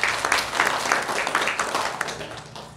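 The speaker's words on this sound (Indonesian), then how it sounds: "Pak Haji Said Pasaribu, tepuk tangan untuk beliau." Applause from a meeting audience honoring the head of department, Pak Haji Said Pasaribu, at a work evaluation meeting; dense, steady clapping from many hands that fills the room and tapers slightly toward the end.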